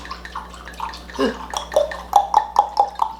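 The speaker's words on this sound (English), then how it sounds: "So, go ahead and pour this in here." Tequila poured from a bottle into a cup, a series of glugging, gurgling bursts that grow louder and more regular toward the end, close and alone.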